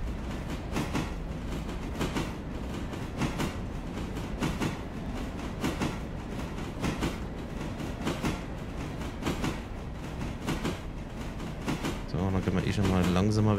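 A long freight train of about twelve cars rolling along in the video game Railroader, a steady loud rumble with rhythmic clacking of wheels on rail joints that grows heavier near the end, while a voice talks over it.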